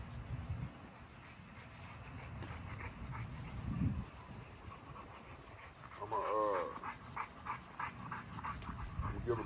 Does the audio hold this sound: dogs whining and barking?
yes